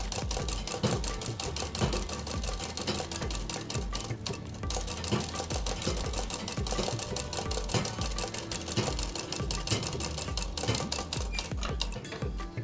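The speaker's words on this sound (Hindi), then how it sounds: "पूरे राउंड पे 1/2 इंच की सिलाई लगाएंगे" A sewing machine runs steadily as it stitches a half-inch seam around the neck strip of a Patiala kurti, a dense, even rattle of needle strokes continuing throughout with only a brief pause partway.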